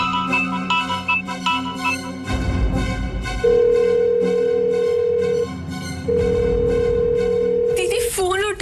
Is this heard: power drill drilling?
no